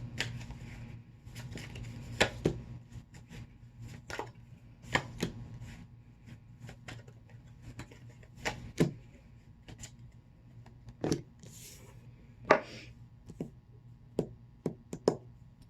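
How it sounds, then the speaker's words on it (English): Tarot cards being drawn and handled, giving a scattered series of soft, sharp flicks and taps spread over the whole span against a faint steady hum, with no talking. "So let me get some more tarot cards"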